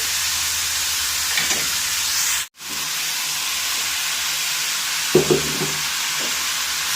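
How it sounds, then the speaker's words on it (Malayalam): Chow chow being stirred through ground coconut paste in a hot pan for a Kerala thoran, with steady sizzling broken by a brief gap and occasional spoon scrapes, no talking. "നന്നായി ഇളക്കി അരപ്പുമായി ചൗ ചൗ മിക്സ് ചെയ്യുക"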